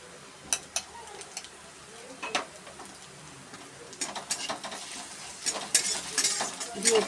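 Onions with ginger, garlic and green chilli paste are stirred in a pan, giving a soft sizzle with scraping spoon strokes that grow busier and louder toward the end; no voices.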